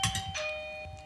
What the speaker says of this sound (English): Just the most intrusive doorbell, sorry.